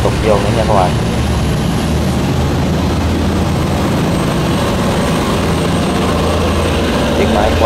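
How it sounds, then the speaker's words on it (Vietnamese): A heavy engine roars loud and steady on a Vietnamese river barge or rice boat, a continuous low droning rumble with voices talking over it. "Chiếc máy quá dữ dằn luôn"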